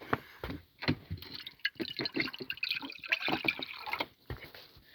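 Water pours and splashes into a rabbits' drinking bowl in a close, continuous liquid rush with dripping and sloshing, broken by brief pauses.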